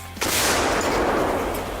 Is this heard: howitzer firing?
yes